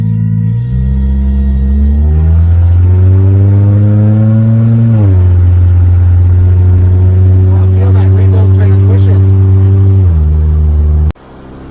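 Volkswagen Beetle driving down the road, its loud, steady engine drone heard from inside the car, with the pitch rising through gear changes before settling into a constant hum that cuts off abruptly at the end.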